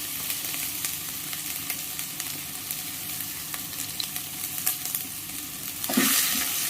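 Green chili and ginger sauté in hot oil with tempered cumin for a fasting-day batata vada, giving a steady close crackling sizzle throughout, with a louder stir or clatter near the end.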